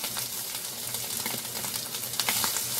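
Meat for Philly cheesesteak triangles reheating in a cast iron skillet, a dense continuous sizzle with crackling pops, loud and close throughout.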